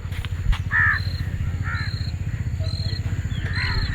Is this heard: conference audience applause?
no